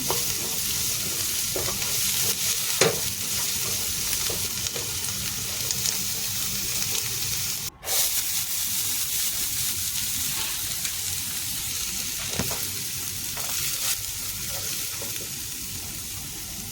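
Cooked lentils are stirred into wilting, frying onions in a pan for Kuwaiti majboos chicken, giving a steady close sizzle with occasional scraping stirs and a brief dropout near the middle, no speech.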